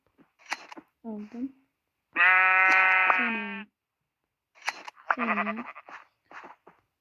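Sheep being herded in for shearing in an Uzbek village, bleating in a few short calls and one long, loud drawn-out bleat, with stretches of silence between.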